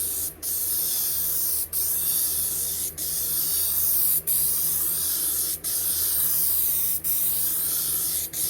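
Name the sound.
spraying headliner adhesive from an aerosol can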